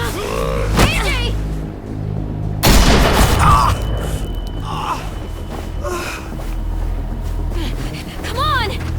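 Gunfire in The Walking Dead: The Final Season video game, with a sharp loud broadband burst partway through amid tense game sounds, gasps and voices.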